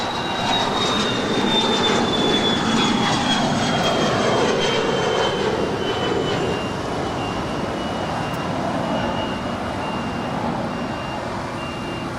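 A Spirit Airlines Airbus A320 in birthday cake livery departs LAX with a loud roaring engine rush and a high whine sliding gradually downward, slowly fading as it moves away.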